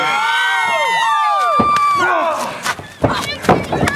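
At a DPW championship wrestling match between Tony James and Troy Novaro, a loud arena crowd shrieks and cheers as several sharp slapping chops land in quick succession near the end.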